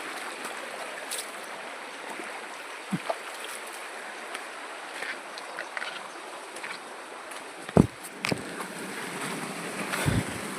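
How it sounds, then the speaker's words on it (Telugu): Steady broadband rush of fast-flowing white water on a stream near a large waterfall in the Palakonda hills of Kadapa, continuous and fairly close, with a few scattered knocks and bumps and no talking. "నీళ్ళు చూడండి ఎట్లా పోతున్నాయో తెల్లగా ఉన్నాయి నీళ్ళు"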